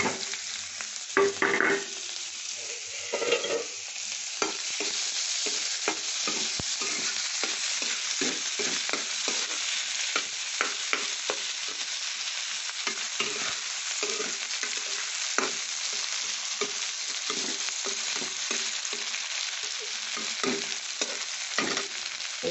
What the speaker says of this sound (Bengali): পেঁয়াজ রসুন আদা আমি সবই দিয়ে দিলাম একসঙ্গে